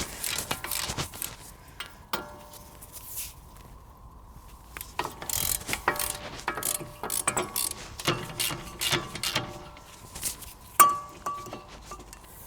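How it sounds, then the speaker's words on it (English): A ratchet loosens the two 18mm bolts on a car's brake caliper carrier, with rapid close clicking in bursts mixed with metallic clinks and handling of the parts. "So now we're going to take this carrier off. We've got 2 18mm bolts."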